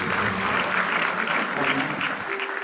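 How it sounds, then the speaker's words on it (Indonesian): A church congregation at an Easter service claps together in a steady, full burst of applause that holds evenly for a couple of seconds, with a faint murmur underneath. "Tepuk tangan dulu."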